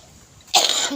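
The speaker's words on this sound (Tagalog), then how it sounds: "Excuse me. Inuubo ako." A single loud, rough cough bursts out halfway through after near silence.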